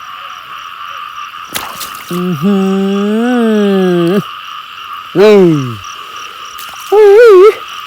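A frog being caught by hand during a night frog hunt croaks loudly in three separate bursts: a long drawn-out call, then a short falling one, then a brief warbling one. A voice speaks faintly in between.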